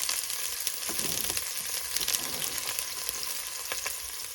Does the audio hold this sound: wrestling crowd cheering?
no